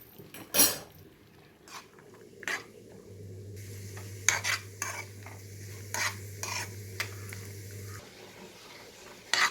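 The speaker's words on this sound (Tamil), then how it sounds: "நல்லா இந்த அளவுக்கு ஃப்ரை பண்ணி எடுத்துக்கலாம்." Coconut rice frying in a pan while a utensil stirs it, producing soft sizzling with irregular scraping and clinking strokes against the metal, close and fairly quiet.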